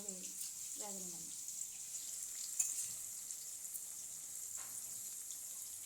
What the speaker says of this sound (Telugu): ఇప్పుడు మనకి కింద మిగిలిపోయిన కాకరకాయలను కూడా అందులో వేసి బాగా వేగనివ్వండి.